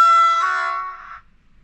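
A DB 152 locomotive's first horn sounds once, a bright tonal blast about a second long, starting loud and fading before stopping abruptly, with nothing else around it.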